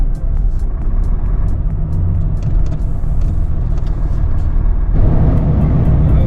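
Heavy flow of cars leaving Moscow at a barrier checkpoint on the Russia–Belarus border, a steady loud road rumble from many passing vehicles that swells near the end, with no talk.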